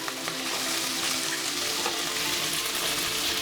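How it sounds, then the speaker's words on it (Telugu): Fifteen dried red chillies and sliced onions frying hard in a pan for an onion chutney, a loud, dense sizzle with crackling spatter that holds steady from start to finish and no voices. "అలానే 15 ఎండుమిరపకాయలు వేసుకొని బాగా ఫ్రై చేసుకోవాలి"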